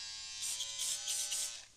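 An electric foil shaver buzzes close up as it shaves a beard down to the skin, a steady high whine that brightens in short bursts as it presses against the hair.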